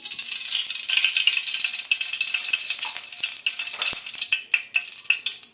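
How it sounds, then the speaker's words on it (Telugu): Chicken frying in hot oil in a kadai makes a continuous bright crackling sizzle up close, with scattered pops and a few stirring clinks toward the end. "నూనె బాగా కాగింది కదా, ఇందులోకి చికెన్ వేసుకున్నాం."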